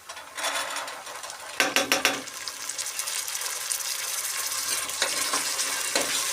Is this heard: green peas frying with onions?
yes